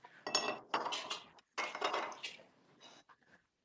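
A carnival glass piece handled and shifted, giving two bursts of dense clinking and rattling close by, each lasting around a second, then a few faint taps as it settles.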